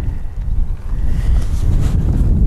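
Wind buffeting a microphone outdoors on a sheep farm, a loud continuous low rumble with gusty fluctuations and no other clear sounds.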